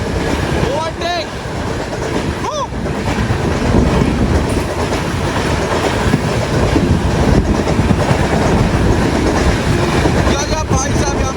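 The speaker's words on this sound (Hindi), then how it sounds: "गजब का ओवरटेक अपनी ट्रेन को किया जा रहा है यहाँ पे" Indian passenger train, the Shalimar Kurla Express, running at night during an overtake, heard from inside a coach: steady loud rumble and clatter of wheels on rails throughout, with a few brief squeals and occasional faint voices.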